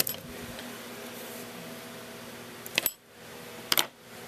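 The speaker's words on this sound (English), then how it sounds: "move these scissors out of the way." A few brief metallic clatters, like scissors set down on a hard surface, break a quiet room hum.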